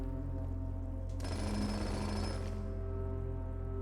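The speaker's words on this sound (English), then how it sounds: "the jackhammer can just dig those" In the video game Blue Prince, a jackhammer digs in a loud burst of dense, rapid rattling that lasts about a second, set over a steady background hum with no talk.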